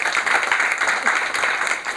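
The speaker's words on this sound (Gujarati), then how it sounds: "જોરદાર તાળીઓથી વધારે" An audience claps loudly and continuously at a health awareness session, a dense, even wash of applause with no pauses.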